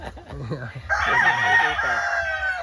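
A rooster crows once, loud and close, a long sustained call that starts partway in after some low background chatter from people nearby.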